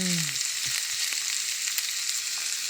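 Sliced onions fry in a pan for steak tacos, a loud, constant, bright sizzle close by with a brief low stir sound at the start.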